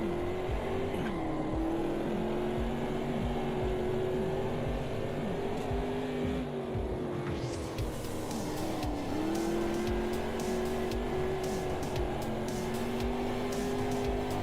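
A V10 Formula One car on grooved tyres laps Road America in Automobilista 2, its high engine whine held steady, rising and falling through gear changes and corners, with tyre squeal bursts.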